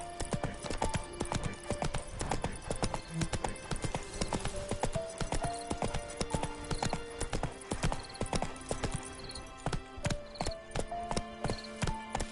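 Roach, the horse in The Witcher 3, gallops in a fast, steady clip-clop of hooves that stays loud and close throughout, with music playing underneath.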